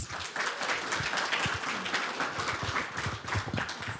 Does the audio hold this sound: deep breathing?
no